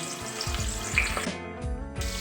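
Kabuli chickpeas sizzling and crackling in hot oil in a pan at home, a continuous, close, watery frying hiss with no one speaking.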